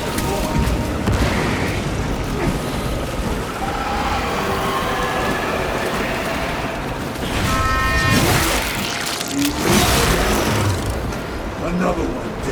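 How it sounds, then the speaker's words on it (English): A frag grenade going off in Warhammer 40000: Space Marine 2, heavy booming blasts swelling amid dense, constant battle noise of gunfire and clatter, with voices calling out over the combat. "Frag grenade deployed!"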